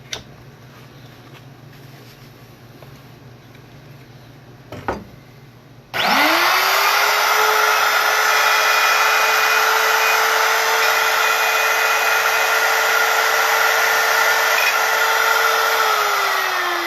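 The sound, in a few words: router cutting channels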